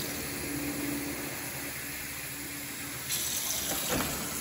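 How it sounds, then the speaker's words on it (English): Tap water runs steadily into a cooking pot, a faint even hiss with a slight change in tone toward the end. "So, we're gonna put the water in the pot"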